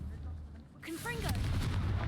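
Confringo blasting spell in Hogwarts Legacy: a sudden booming burst erupts partway through and leaves a rumbling, crackling explosion rolling on to the end, close and loud.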